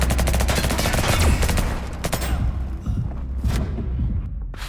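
Rapid bursts of gunfire from the shooter video game Liberated, loud and close, with rattling automatic volleys and heavy thuds that thin out toward the end.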